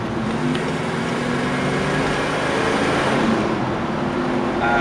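A 1972 Gran Torino Sport with a Flowmaster exhaust accelerating, a steady broadband engine and exhaust roar that holds loud and constant throughout, with no voices.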